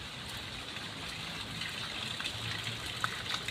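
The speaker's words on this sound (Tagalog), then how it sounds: "mahina lang yung ulan dito ngayon sa amin." Light rain from Typhoon Kristine in a parking area, a steady watery wash with a faint gushing quality, soft and even throughout with a few tiny drip accents and no talking.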